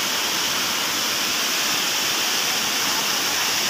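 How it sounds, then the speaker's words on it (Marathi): A waterfall roars as a dense, constant rush of falling water, loud and close, with no breaks for the whole stretch. "धबधबा बघा."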